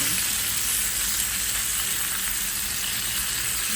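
Chicken frying in a hot pan of oil, a steady bright sizzle and crackle that stays even and close throughout, with no talking over it.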